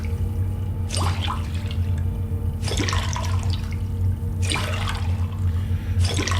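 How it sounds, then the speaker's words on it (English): Water pours and splashes in Fallout London as bottles are filled, three or four bursts of splashing over a steady low hum of game ambience, fairly loud and with no talk. "We also need to fill the bottles that we got."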